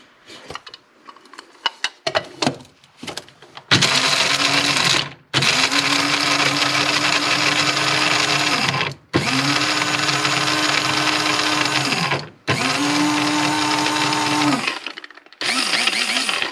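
A kitchen grinder pulverizes dehydrated cashews in four loud, steady bursts of high-pitched whirring, each cut off abruptly by a brief pause, after a few faint clatters at the start.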